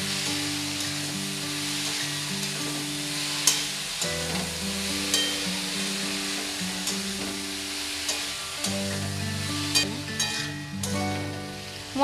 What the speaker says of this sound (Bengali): মশলার সাথে আমি লাউটা ভালো করে মিশিয়ে নেব।